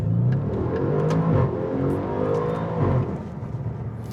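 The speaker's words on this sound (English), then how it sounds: "you still get that V8 rumble, some pops and burbles on overrun when you're in dynamic mode" Audi RS7 V8 in dynamic mode on overrun, a deep continuous exhaust rumble with a couple of swells and a few faint crackling pops, close and loud before easing off at the end.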